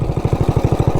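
A ported 420cc minibike engine runs with a rapid, steady pulsing beat, loud and close throughout the short burst with no talk.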